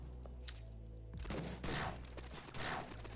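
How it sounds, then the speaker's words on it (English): Gunfire from a video game weapon that fires pellets and armor-piercing rounds, heard as a few separate loud bursts with sharp attacks spread across the moment, standing alone without talk. "This gun can shoot armor-piercing rounds"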